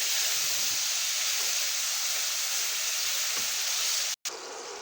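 Ground spice paste frying in hot oil for prawn malaikari, a steady loud sizzling hiss that cuts out briefly near the end, with no talk.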